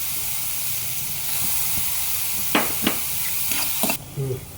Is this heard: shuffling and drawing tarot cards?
no